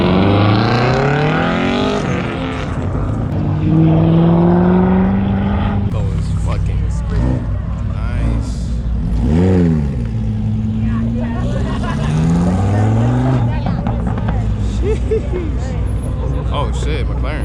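A McLaren sports car roars past loudly, its engine note rising and falling in a sustained pass near and prominent, with people talking and exclaiming over it throughout.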